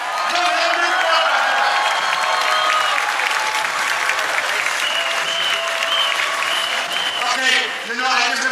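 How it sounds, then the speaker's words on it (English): Crowd at a Toronto Al Quds Day protest applauding a lawyer, steady loud clapping with scattered cheers and whoops throughout, fading briefly near the end. "Give him the applause"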